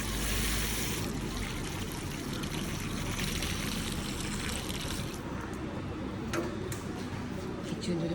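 Water runs steadily from a garden hose pipe, an even hissing trickle that continues throughout, with a few faint clicks toward the end and no talk.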